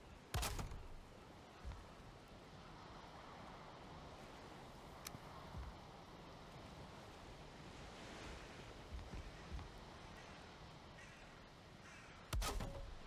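Crows cawing in the game Valheim, heard as a few sharp, fairly close calls near the start and the end over a steady bed of wind and surf-like ambience.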